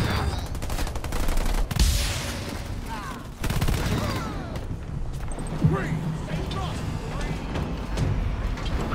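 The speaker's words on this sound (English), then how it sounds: "Marines under fire from enemy!" Halo Wars 2 battle as Marines come under enemy fire: rapid bursts of automatic gunfire and scattered shots over a busy mix of battlefield noise, with a unit voice calling out over the action.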